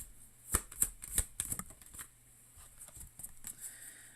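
Tarot cards being shuffled by hand close up: several quick riffling bursts and soft slaps in an irregular rhythm, fading into lighter rustling and card handling, with no one speaking.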